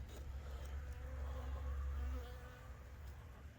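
A steady, low insect buzz hums throughout, the massed drone of many Buckfast honey bees, fairly quiet with no voices.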